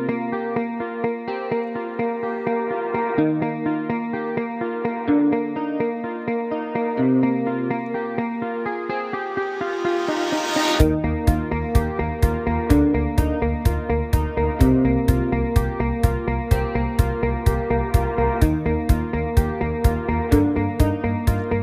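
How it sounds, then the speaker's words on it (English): Music with a sustained, echoing reverb wash; a swelling build gives way to a steady beat with sharp repeating hits that ring out and trail off. "now we have some really cool reverb effect under the bottom of this part"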